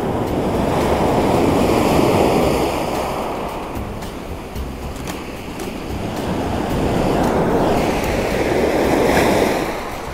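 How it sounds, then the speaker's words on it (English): Waves surge and break on a rocky beach in slow swells, rising and falling in loudness, with gusty wind buffeting close by and no voices. "it's just waiting for the ideal waves"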